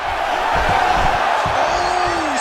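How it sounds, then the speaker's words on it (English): A large arena crowd roars and cheers steadily throughout a women's mixed martial arts bout in UFC 5, with whoops rising above the dense, loud, continuous din. "crowd pops as she reverses position"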